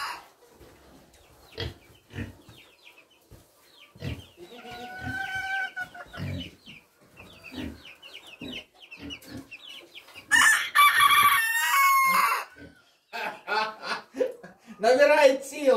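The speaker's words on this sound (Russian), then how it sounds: "Молодой петух уже кукарекает, это мы первый раз услышали его." A young rooster crows in a farmyard, its strained, high calls breaking out loud near the middle and again at the end, amid clucking hens and people speaking.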